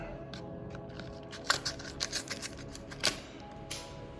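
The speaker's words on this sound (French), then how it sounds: "On va prendre les ciseaux." Scissors snip open Pokémon Darkness Ablaze card packs: faint crisp cuts and foil crinkles, a few sharper clicks against a low steady room hum.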